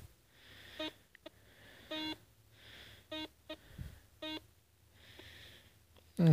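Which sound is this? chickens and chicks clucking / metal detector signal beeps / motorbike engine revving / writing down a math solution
metal detector signal beeps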